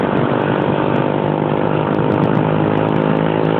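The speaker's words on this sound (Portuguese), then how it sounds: "Mas tá essa moto aí da frente, tá fazendo barulho." A motorcycle engine ahead on the road, heard from a Yamaha Factor 125 rider's position, a loud continuous droning hum with steady tone and no speech over it.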